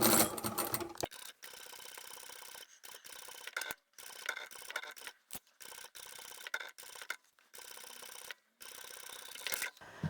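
A sewing machine stitches a fabric tablet pouch in repeated close-up bursts of fast mechanical whirring, separated by brief pauses, with no voices.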